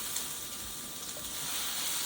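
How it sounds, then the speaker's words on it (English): Sausage frying in an electric skillet, a steady faint sizzle of hot fat that holds evenly throughout with no talking over it. "I'm going to cook the sausage first. And I'm using my electric skillet today."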